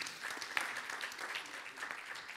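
Steady applause from a crowd, a continuous patter of many hands clapping at moderate volume, with no voices standing out.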